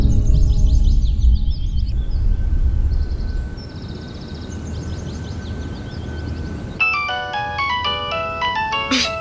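A phone ringtone sounds for an incoming call in a home scene from a Pakistani drama, an electronic melody of rapid repeating tones that plays loudly, pauses under background noise, then returns as a brighter stepped tune.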